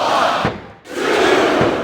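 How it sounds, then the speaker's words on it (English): A capacity wrestling-arena crowd at an IronMan match roars loudly and continuously. The noise dips sharply for a moment before swelling back to full volume. "This capacity crowd is making their opinions known tonight."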